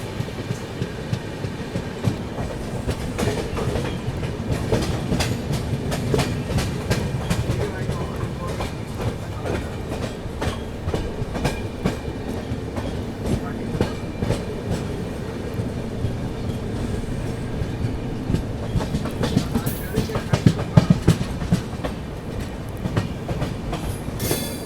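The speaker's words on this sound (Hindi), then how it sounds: "यहाँ पर अपनी ट्रेन जो है थोड़ी स्लो डाउन हुई है" Duronto Express 22209 from Mumbai Central to Nizamuddin rolling slowly near Mathura Junction, with a steady close rumble and rhythmic wheel clatter throughout and a slightly louder jolt near the end.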